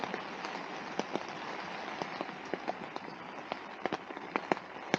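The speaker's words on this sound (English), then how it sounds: "Ooh, nice drop of rain now guys, look at that coming down." Rain patters steadily on a bivvy canopy at a pike fishing spot, a constant hiss of drops with scattered sharper taps of heavier drops, close and fairly soft, with no voices.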